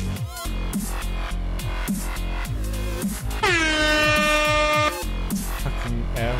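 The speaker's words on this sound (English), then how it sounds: "Fucking air horn." A loud air horn sound effect blasts for about a second and a half over a pounding glitch hop track with a steady beat, cutting off sharply.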